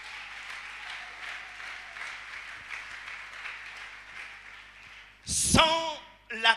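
A congregation in a church gathering applauds to acclaim the king. The crowd clapping rises steadily, with a sudden loud burst of sound near the end.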